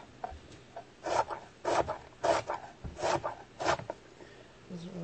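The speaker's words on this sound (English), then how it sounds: "So right now I'm just cutting up some onions." A knife chops onions into small pieces on a board for homemade gluten-free stuffing: a steady series of close, crisp cutting strokes about every half second, with a soft voice briefly in the background.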